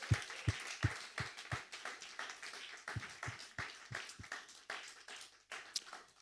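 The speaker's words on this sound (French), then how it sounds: "Est-ce qu'on peut faire monter une acclamation qui honore ce Dieu qui sait tellement bien faire les choses?" A church congregation claps in sparse, uneven bursts, with separate sharp hand claps rising and falling over soft background clatter and no clear voices.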